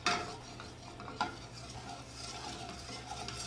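Butter browning into beurre noisette in a pan that is kept moving, giving a steady low fizz and soft sizzle with a few light scrapes and one sharper clink, continuous and fairly quiet with no talking.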